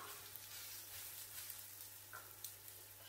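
Arabic flatbread frying in a little oil on a pan just after being flipped, with a quiet, even sizzle and scattered faint crackles and pops, with no talking.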